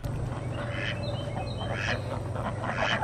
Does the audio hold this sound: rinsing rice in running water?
no